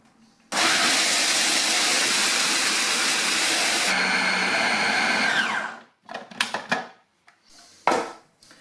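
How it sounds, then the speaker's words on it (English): Blender grinding nuts with a little sugar into peanut butter: a loud, steady motor roar starts abruptly, shifts pitch partway through, then winds down, followed by a few short rattling bursts. "All I've got to do is blend these until they become peanut butter."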